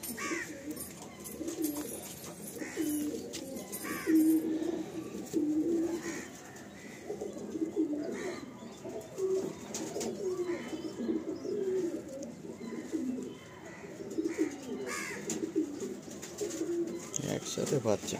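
Madrasi pigeons held in hand coo in soft, repeated low murmurs at close range, with quiet talk and handling noise around them.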